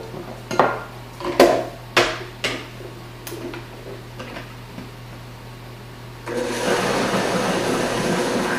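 A few clinks and knocks of a ladle against a pot, then a steady whooshing pour of soup stock into a blender at the end.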